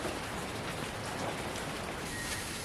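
Rain falling steadily during a rainy spell, a soft even hiss of drops on surfaces with scattered louder patters, fairly quiet and without voices.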